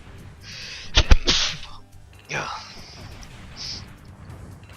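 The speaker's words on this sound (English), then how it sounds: "I need to sneeze." A person sneezes once, a sharp close burst with a quick inhale before it, followed by a brief breathy sound and faint background noise.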